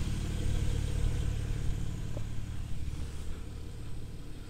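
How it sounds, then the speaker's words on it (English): A Porsche 992 Carrera S Cabriolet with sports exhaust runs close by, a steady low rumbling idle with a slight swell early on, heard alone without talk. "Sports exhaust, you can't over rev these, as you probably heard."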